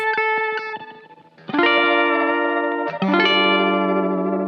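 A distorted electric guitar with effects, plucked notes followed by two sustained layered chords ringing out, loud and close with a higher harmony a fourth above on top.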